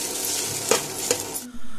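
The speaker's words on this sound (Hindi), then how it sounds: "वहाँ पे कढ़ाई भी चढ़ चुका है, चौमिन भी मेरी दीदी बना रही है" Chowmein stir-fried in a kadhai over a home stove, a steady close sizzle with two sharp metallic scrapes of a spatula against the wok, then the frying drops to a quieter hum at the end.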